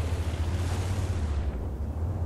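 A deep, rumbling tank gun blast in the video game World of Tanks, a heavy boom whose low roar lingers and fades over a couple of seconds, with no talk over it.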